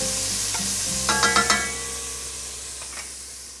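Onions softening in oil in a pan for a sausage and butternut squash pasta, a steady close sizzle with a few quick stirring scrapes partway through.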